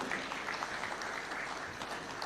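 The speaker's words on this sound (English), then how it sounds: "Let's give them a warm clap as they receive these awards kindly" Steady applause from an audience at a Taxpayers' Day award ceremony at State House, Nairobi, honouring cooperative society award recipients; a continuous, even wash of clapping held at moderate level throughout.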